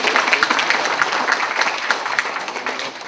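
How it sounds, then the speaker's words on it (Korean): Audience applause at a vision proclamation ceremony in an event hall, a steady wash of many hands clapping that fades slightly toward the end. "다시 한번 큰 박수 부탁드리겠습니다"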